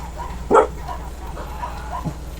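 A pet dog lets out one sharp, close bark during a live game stream, then a softer yip a moment later, over a low background hum.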